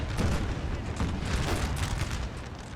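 Cannon artillery fire in the Napoleon Total War video game, a dense continuous barrage of booms and rumbling blasts at steady loudness throughout, with no voices.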